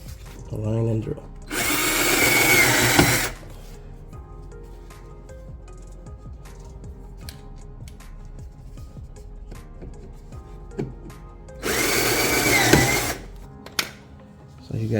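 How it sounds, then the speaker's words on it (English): A power drill drives self-tapping screws into a side wing splitter for a 2022-on Genesis G70. Two loud whirring bursts of a couple of seconds each, close up, come with handling clatter in the quieter stretch between them. "align and drill"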